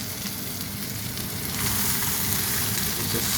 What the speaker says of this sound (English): still sizzling away nice there